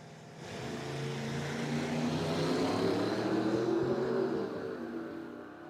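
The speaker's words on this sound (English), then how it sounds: "Corvette versus Camaro action going down track." A Corvette and a Camaro run down the strip at a drag racing track, a steady, distant engine roar building and holding, then easing off, with no speech.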